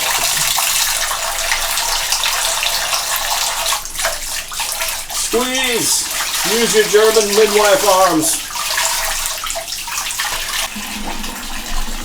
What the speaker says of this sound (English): Just try to rinse it off as the water's running